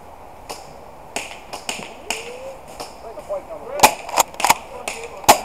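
Gunfire in an airsoft-style zombie shooting game, a scattering of sharp, snapping shots at varying distances, a few louder close cracks near the end, over faint background voices.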